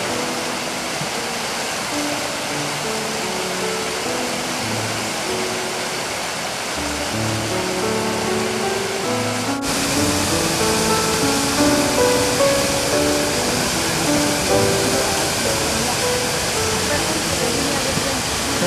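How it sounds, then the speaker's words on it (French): Unfrozen river water pours down a winter waterfall cascade in the Mauricie region, a loud, steady broadband rush that fills the whole clip and grows slightly stronger partway through. "Cette eau n'a pas été prise par les glaces compte tenu de sa vigueur et la descente vers la cascade."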